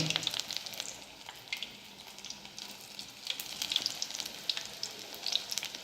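Mirchi bajji, chillies dipped in batter, frying in hot oil with a fine continuous crackle and bursts of spitting bubbles, close and fairly quiet, with no talk.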